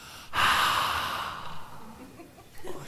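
A single long, audible inhale and exhale, a deep breath that rises sharply and then slowly fades over a couple of seconds, heard close and alone with no talking.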